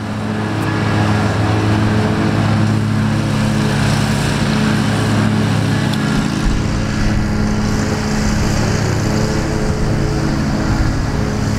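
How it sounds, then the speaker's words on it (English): A lawn mower drones steadily in the background on a golf course, a continuous engine hum without breaks and no talk over it. "Got a little mower in the background."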